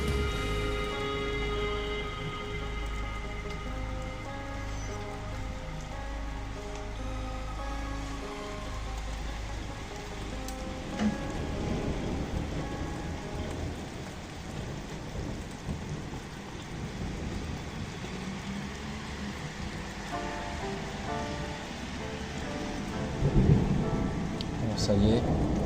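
A nighttime thunderstorm over Amiens brings a steady roar of heavy rain with low rumbling thunder rolling through it, one louder crack late on, and someone talking faintly in French over the downpour.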